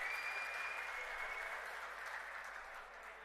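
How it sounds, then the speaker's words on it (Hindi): Crowd applause at a Lok Sabha election rally in Haryana, a brief steady wash of clapping heard from a distance and fairly faint, fading slightly toward the end. "जोरदार तालियां आपकी तरफ से आनी चाहिए।"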